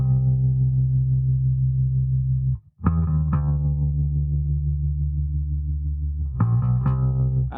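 Electric bass guitar plays a groove over a repeating vamp, with a quick chromatic run of two sixteenth notes leading into the next chord; sustained, loud low notes alone with no talking.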